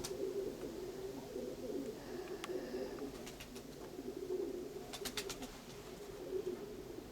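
Low, rolling cooing of several pigeons close by in the Konotop area of Ukraine, repeating in soft waves, with a few faint chirps and clicks mixed in.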